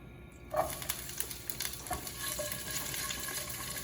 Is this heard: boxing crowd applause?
no